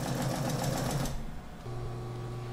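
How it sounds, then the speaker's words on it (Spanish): A sewing machine stitches a straight seam on a long-sleeved blouse, running in a fast steady whir for about a second, pausing briefly, then resuming at a lower, even hum. "Lo vamos a hacer con costura recta y muy cerquita para pisar esta costura"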